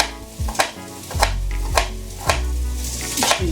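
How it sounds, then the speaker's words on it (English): A kitchen knife chops and minces garlic on a cutting board for a homemade avocado garlic sauce, sounding as a steady series of about seven sharp, close knocks spaced roughly half a second apart, with no talking. "you probably don't have to be perfect with the mincing of the garlic anyways"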